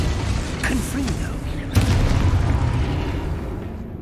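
A Confringo spell in Hogwarts Legacy explodes with one sharp, booming burst partway through, followed by a rumbling tail over steady game ambience.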